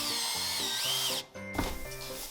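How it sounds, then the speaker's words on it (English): A power drill bores into a piece of wood for the base of a Christmas tree, its motor whirring steadily, briefly cutting out, then starting again amid background music. "we had to improvise and drill a piece of wood to the bottom of the tree"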